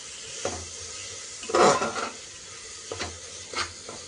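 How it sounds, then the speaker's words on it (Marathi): Soaked masoor lentils are stir-fried in a pan, a soft continuous sizzle broken by scraping strokes of a spoon against the pan, one louder stir in the middle and a few lighter ones after. "आता यात भिजवलेले मसुरा घालायचे आहेत. ते चांगले परतून घ्यायचे आहेत."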